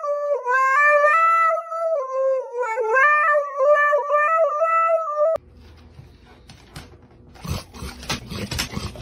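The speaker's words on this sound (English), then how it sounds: "Crazy dog." A dog lets out a long, wavering, tonal howl that rises and falls for about five seconds, loud and close, then gives way to scraping and rustling noises.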